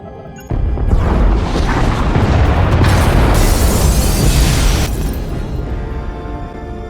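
Pod bays blow apart in the SWTOR Knights of the Fallen Empire game, a sudden loud explosion that swells into a long, roaring, crackling rumble before slowly dying away.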